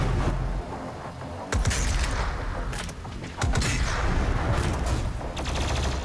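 Gunfire in the video game Doom Eternal: loud, dense volleys of heavy blasts that erupt in several surges, with a brief lull between bursts and no talk.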